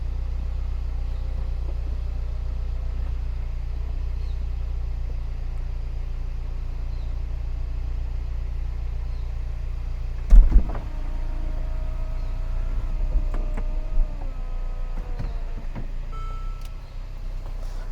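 Power roof of a Mercedes SLK 300 convertible closing, a steady electric motor whir over an idling engine with a mechanical clunk partway through, followed by further motor whine and a latch click, with no talking.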